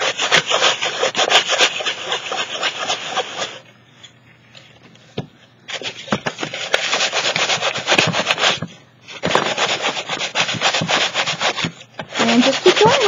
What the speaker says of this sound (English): Okay, so I sanded quite a bit down.